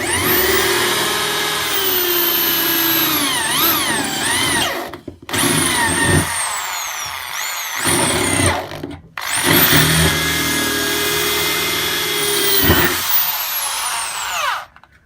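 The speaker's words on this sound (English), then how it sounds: "for that we need a 6mm drill bit, which will do the job for us." A Bosch power drill with a 6mm bit whines loudly in several sustained bursts, its pitch rising and falling as the bit bites, with short pauses between runs.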